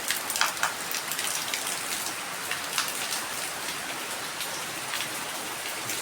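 Heavy May rain pours onto a flooded courtyard in the Konkan region, a dense, even patter of drops with a few louder splashes near the start and no voices.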